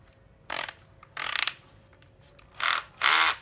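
An old used cordless drill runs in four short bursts, its slipping clutch ratcheting with a buzzing clatter, each burst about half a second long with brief pauses between, fairly close.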